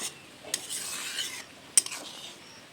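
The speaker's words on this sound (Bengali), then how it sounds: "এবারে আমি একটু দুধটা নেড়ে ছেড়ে দিচ্ছি" Milk boiling in a pot for rasmalai is stirred with a spoon, giving a few scraping strokes and metallic clinks against the pot over a soft bubbling bed, close and without talk.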